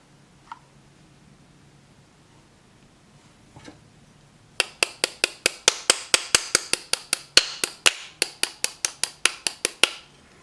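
A couple of faint taps, then a rapid run of about two dozen sharp metallic hammer strikes driving trigger pins into an AR-15 lower, in an even, quick rhythm, close and loud.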